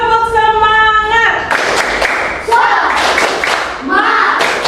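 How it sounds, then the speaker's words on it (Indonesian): A classroom group doing a spirit clap, with a short run of rhythmic claps following a spoken call and voices chanting between the bursts. "Yuk, tepuk semangat."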